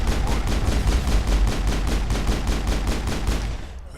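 Enemy gunfire in the video game Mass Effect: rapid, steady automatic shots rattle continuously at close range for several seconds, then cut off and leave a quiet tail.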